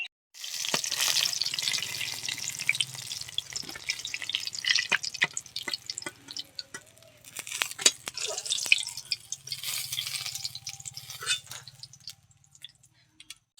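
Cabbage rolls frying in hot oil, a steady bright sizzle with scattered crackles and pops, close and moderately loud, with no talk over it.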